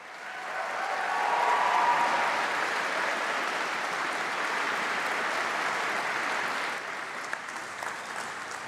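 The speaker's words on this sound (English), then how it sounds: "please let's give a huge round of applause and a cheer to say thank you to all of your supporters" An audience at a university graduation ceremony breaks into loud, sustained applause with some cheering, the clapping swelling early and holding steady before easing slightly toward the end.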